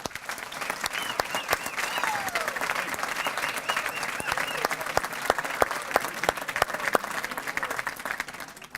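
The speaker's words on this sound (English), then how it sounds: "I think we should all give him an enormous round of applause." Sustained applause from a dinner audience at a business awards event, dense and steady throughout with scattered sharper claps standing out and a murmur of voices underneath.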